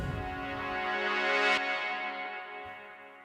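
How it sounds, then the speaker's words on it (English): Big sustained synth chords drenched in heavy reverb play backwards, swelling steadily louder into an abrupt cutoff, followed by a faint, fading tail. "I used this reverse sound, which is actually just those big chords recorded with a lot of reverb."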